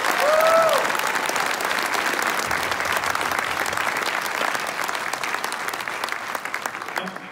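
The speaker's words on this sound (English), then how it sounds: "One more round of applause for everybody who stood up to speak tonight." An audience at a graduation ceremony breaks into loud applause that gradually tapers off, with a brief whoop near the start and crowd murmur underneath.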